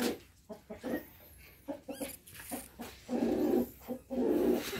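Brahma chickens clucking and murmuring close by in short, irregular bursts, with scratchy movement sounds mixed in.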